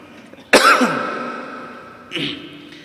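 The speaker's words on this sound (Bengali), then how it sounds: "আপনারা টের পান নাই যে আমার কাশি উঠতেছে" A man coughs sharply during a Bangla Islamic sermon after an insect gets into his throat. One loud, hoarse burst is followed by a second, weaker cough-like rasp, heard close.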